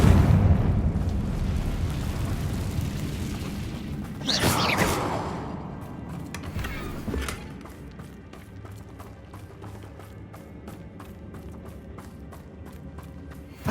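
A Confringo fire spell explodes with a loud whooshing burst in the Hogwarts Legacy video game, flaring twice amid a roaring blast, then settling into a fainter crackle with repeated clicks.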